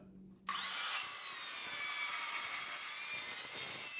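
A saw cuts through wooden pallet boards for a coat rack, starting abruptly after a brief quiet moment and then running as a steady, close, continuous rasping grind to the end.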